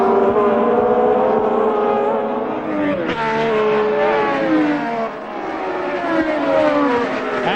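Formula One cars at the 1970 British Grand Prix roar past in a loud, continuous blur of high-revving engines, several cars overlapping with rising and falling pitch as they pass close by.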